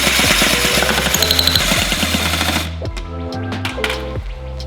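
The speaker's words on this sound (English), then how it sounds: "I'm just gonna drill them on in." A power drill driving screws whirs loudly up close, chattering at first, then whining in short bursts as its speed rises and falls.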